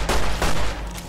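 Rapid bursts of gunfire from a Fallout game, Tale of Two Wastelands, a quick cluster of close, loud shots packed into about a second with no voices over them.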